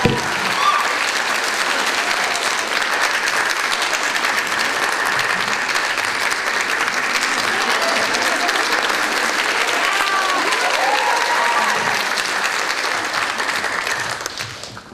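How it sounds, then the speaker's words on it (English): A large audience applauds loudly and steadily at a K-pop regional contest in San Francisco, sustained dense clapping for about fourteen seconds before it tapers off, with some crowd voices mixed in. "Please give a big applause."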